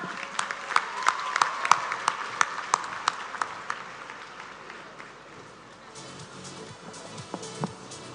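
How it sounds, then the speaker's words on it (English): Audience applause at a graduation ceremony, steady clapping from a crowded hall at moderate distance that gradually thins and fades toward the end. "A round of applause, ladies and gentlemen."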